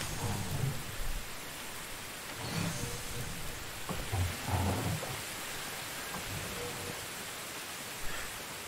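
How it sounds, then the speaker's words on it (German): Steady rain falling in the medieval village video game Medieval Dynasty, a dense continuous hiss with low rumbling thuds and footsteps mixed in, heard without talk. "Hier durch den Regen flitzt."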